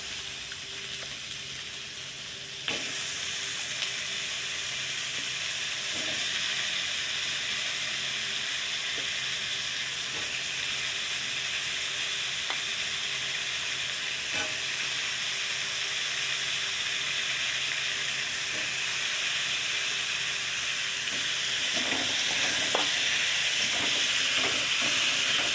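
Potatoes sizzle steadily in a hot pan of oil, a dense continuous frying hiss close by with a few faint clinks and stirring ticks near the end.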